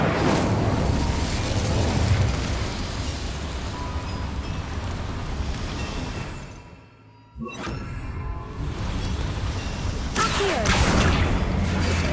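Fire spell cast in the Hogwarts Legacy video game, a dense roaring burst of flame and rumble that fills most of the stretch, briefly cuts out midway, then surges back loud.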